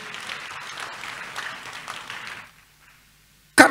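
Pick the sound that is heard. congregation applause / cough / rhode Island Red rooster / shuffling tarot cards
congregation applause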